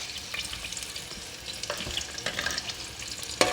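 Sliced medium onion drops into hot oil for a mixed chana and mash dal, setting off a close steady sizzle with scattered clatters and scrapes and a sharp knock near the end, with no talking.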